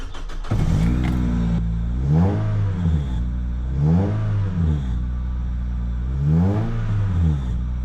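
A car engine revs repeatedly through a homemade custom-welded exhaust, loud and close, with three or four rising and falling pulls over a steady idle rumble and no talk.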